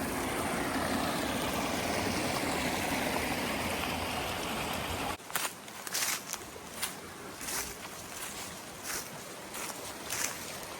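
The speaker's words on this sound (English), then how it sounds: "Nice little cascade here." Parker Creek cascade on a wooded North Carolina trail, a loud continuous rush of falling water that drops abruptly halfway through to a quieter babble broken by crackling footsteps or brush.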